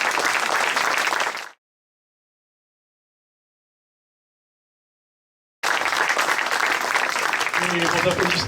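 Audience applause fills a gathering with dense clapping, cuts to silence for several seconds, then returns with a voice speaking over it.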